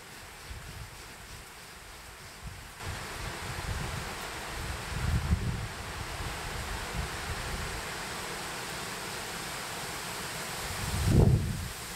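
Gusty wind blowing through a forest at night, a broad rushing noise that swells in places and builds to a stronger gust near the end, with no talk.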